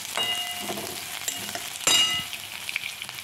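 Green chillies sizzle in hot oil with peanuts and onion for upma, a steady close frying hiss with a louder burst of spitting partway through and a light utensil clink.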